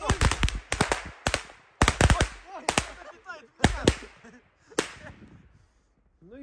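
Firecrackers bursting in a forest, a rapid series of sharp, loud cracks in several clusters, each trailing off in a brief echo, with people talking between the blasts.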